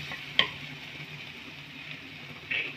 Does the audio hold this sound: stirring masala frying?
yes